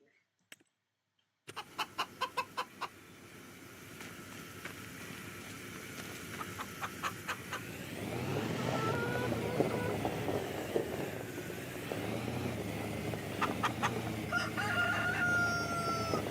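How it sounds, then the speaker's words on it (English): A rooster crows in Farming Simulator 25, a string of sharp repeated calls near the start, then a denser, louder bed of farm-game ambience with further clicks and crowing bursts. "So we'll start off by buying a rooster"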